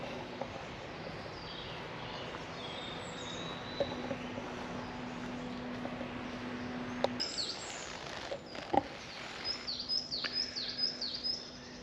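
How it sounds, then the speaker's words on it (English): Small birds chirp and tweet in short, scattered calls beside a still, sunny lake, faint against a quiet outdoor background, growing busier toward the end. "Birds chirping."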